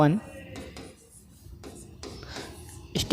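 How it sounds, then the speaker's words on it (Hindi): Pen scratching and rubbing across paper in a physics lesson, a run of short strokes at close range, with a voice briefly at the start and end. "अब स्टेप 1 में लिखेंगे"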